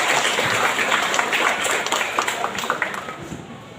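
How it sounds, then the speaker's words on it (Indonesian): An audience in an indoor hall applauds the women of Stasi Tapang Bira at a WKRI installation ceremony, a burst of scattered hand claps that thins out into sparser individual claps as it fades. "Tepuk tangan untuk ibu-ibu yang dari Stasi Tapang Bira"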